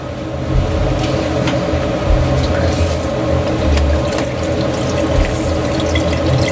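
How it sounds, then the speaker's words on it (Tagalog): Water pours steadily into a metal cooking pot for pork sinigang with a continuous splashing rush and low gurgling, close and fairly loud, with no voices. "dito natin ilagay yung tubig"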